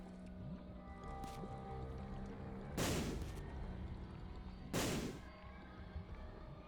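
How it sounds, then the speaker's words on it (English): Two bomb explosions in The Binding of Isaac Repentance+ blow up blue fires, each a sharp blast a couple of seconds apart, heard faintly over steady game background sound. "I might as well blow up these blue fires."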